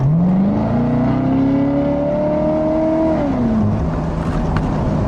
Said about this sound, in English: I love that little burble fart noise that the exhaust makes when it shifts gears.